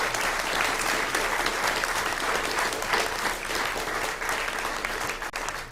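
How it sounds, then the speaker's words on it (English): Steady applause from an audience at a League of Women Voters congressional candidate forum in Camarillo, California, a dense wash of clapping that continues evenly throughout, with no voices over it. "let's give him a round of applause."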